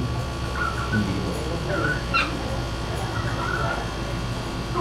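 Soft, high puppy whimpers and brief yips come and go against a steady background hum, close by and fairly faint; the young dog is ill and has seizures.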